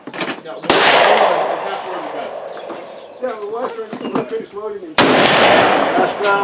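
Two loud black powder shots from an Uberti Dragoon revolver fitted with a 45 Colt conversion cylinder, fired at an outdoor Victorian rifle match, each a sharp blast with a long rolling tail, with people talking between them.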